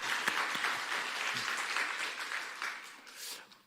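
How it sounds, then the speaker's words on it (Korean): A church congregation at a Sunday worship service claps together in a brief round of applause, fairly close and even, fading out toward the end. "오늘 이 복된 자리를 만드신 우리 주님께 영광의 박수 올려드리겠습니다."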